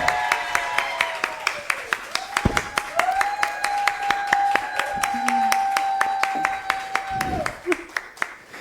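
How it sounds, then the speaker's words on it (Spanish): Audience applause at a live storytelling (cuentería) show, a steady run of crisp claps lasting several seconds, heard alongside voices. "yo creo que ese aplauso salió súper del corazón"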